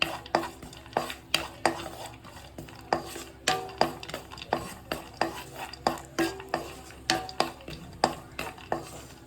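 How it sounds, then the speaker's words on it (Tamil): Cashews roasting in ghee in a nonstick pan over medium flame, stirred with quick rhythmic spatula scrapes about twice a second over a faint sizzle. "முதல்ல நெய் காஞ்ச உடனே முந்திரியை போட்டு இதை வறுத்து எடுத்துக்குவோம்"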